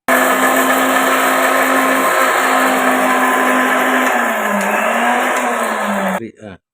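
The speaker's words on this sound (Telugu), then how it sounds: "ఈ మూడు మిక్సీ వేసి తీసుకొస్తాను" A mixer grinder blends cumin, ginger and garlic into a paste, a loud, steady, high motor whine running close for several seconds before it cuts off abruptly.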